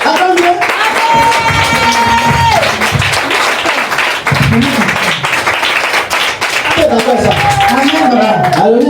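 Church audience applauding loudly, a dense wash of clapping that swells and dips over several seconds, with music and a voice mixed in beneath the crowd.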